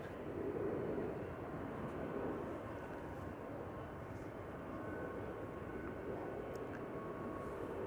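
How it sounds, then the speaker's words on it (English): A brand-new KLM Airbus A321neo bound for London Heathrow rolls for takeoff at Schiphol, its engines a continuous moderate rumbling roar that swells slightly early on and then holds steady, with no talk over it. "Next airplane has begun rolling. KLM flight 1005 going to London Heathrow."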